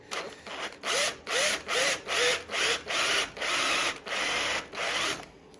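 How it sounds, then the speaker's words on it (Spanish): Drill on a go-kart part, enlarging a hole with a lubricated bit, sounding in repeated short bursts of whirring and grinding, roughly eight pulses with brief gaps, close and fairly loud, with no talk. "Así hacéis que no se caliente la broca y os ayude a hacer el agujero más grande, mejor."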